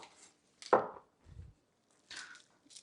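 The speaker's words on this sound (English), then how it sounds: "All right, so the same for the parsley. Slice off the ends." Knife chopping through parsley ends on a cutting board, a few sharp, close, separated cuts with quiet pauses between them.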